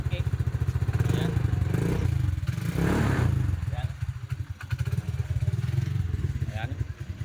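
A motorcycle whose push-button start had failed is running after an emergency bypass fix, a loud, close, steady rapid engine thump with a brief rev, under a man's speech.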